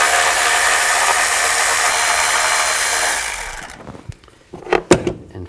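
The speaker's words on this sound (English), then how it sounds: "I'm going to use a 10mm socket," A power tool with a 10mm socket runs loud and steady for several seconds while backing bolts out of a plate on a 2000-2006 Chevy Tahoe, then stops, leaving a few clanks and handling noises.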